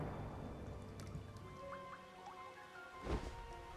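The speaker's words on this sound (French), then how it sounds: "C'est l'orage." Rain from a thunderstorm in the video game Sky: Children of the Light, a soft patter of drops and drips throughout with a short louder burst near the end, fairly quiet.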